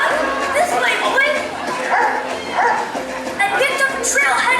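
A dog barks and yips repeatedly at a theme park show alongside voices, with rhythmic bursts over a busy, loud background of speech and music.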